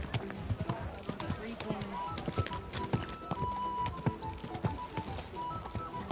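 Horse hooves clip-clopping in an irregular walking rhythm, close and fairly quiet, with scattered knocks and someone speaking calmly over the steps.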